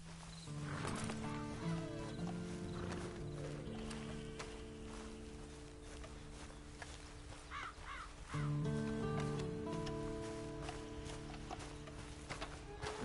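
Horse hooves clip-clopping in a PS4 video game, a steady trotting patter set under a sustained musical score with crow-like calls, heard throughout at moderate loudness without speech.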